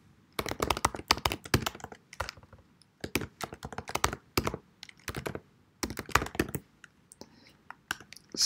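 Rapid typing on a computer keyboard in bursts of crisp, close clicks separated by short pauses, with no voices over it.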